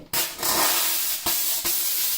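A Vapodil steam cleaner purges dry steam in a steady, loud, close hiss that starts abruptly and runs on, with two brief dips where the jet sputters.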